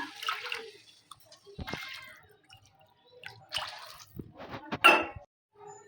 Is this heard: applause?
no